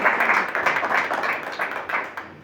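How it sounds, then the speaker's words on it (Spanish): Congregation in a church applauding steadily, a dense, continuous clapping wash that holds throughout with slight swells, fairly close and without voices on top. "Dale un fuerte aplauso al Señor"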